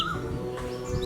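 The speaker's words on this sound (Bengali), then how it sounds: "ভোরবেলা ভেসে আসা নাম না জানা কোনো পাখির ডাক শুনে চিনতে পারি কি" Bird calls at dawn somewhere in Bangladesh: a few faint, clear chirps and whistled notes drift over a soft background hum, with no voices.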